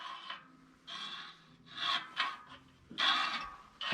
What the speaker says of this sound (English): I start to hear a little rubbing